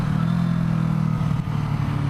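CFMOTO 650NK motorcycle coasting on engine braking, a steady low engine drone with faint clatter and wind, continuous and close throughout with no talk.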